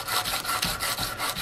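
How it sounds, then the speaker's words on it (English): Half or full round file and sandpaper worked in long, full strokes along the curve of a wooden rifle stock, giving a steady back-and-forth rasping rub, close and fairly loud, with no voices. "I'm going to get my half or my full round file here with my sandpaper."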